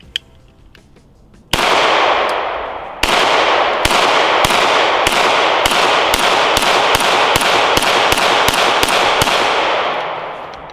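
Smith & Wesson SW99 pistol shooting a string of about fourteen loud, close gunshots, the first two spaced apart and the rest in a quick, fairly even rhythm, echoes overlapping between shots.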